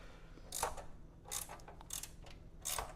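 Four short bursts of a socket wrench ratcheting with a rapid clicking pawl on an old classic motorcycle, close and crisp, separated by brief quiet gaps over a low hum.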